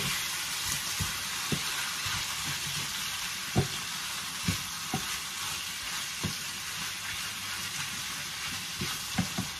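Chicken frying in a pan while being cooked for a creamy chicken and broccoli dish, a steady close sizzle broken by sharp stirring and scraping clicks at irregular intervals.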